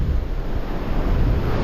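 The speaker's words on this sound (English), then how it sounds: "It's bloody windy" Strong wind buffets the microphone with a steady low roar at the seashore, the wash of surf mixed in, loud and continuous.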